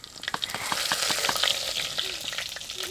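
Mustard seeds and whole cumin sizzle and pop in hot oil, a steady frying hiss with many sharp crackling spits, close and fairly loud, no voices.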